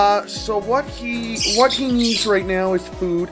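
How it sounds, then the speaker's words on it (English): A pet bird squawks and chirps repeatedly in the background while a person talks over it, its sharp calls cutting in between the spoken words. "If you hear chirping, that's because I have a bird in the background"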